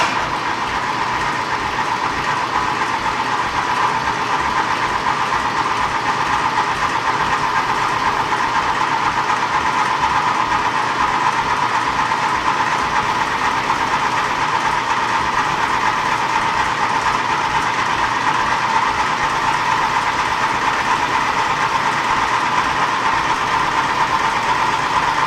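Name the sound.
engine cranked and running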